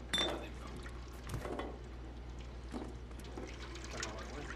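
Running water in the video game Stray, a soft liquid trickle with drips and splashes running throughout at low level, with faint clicks and occasional background sounds.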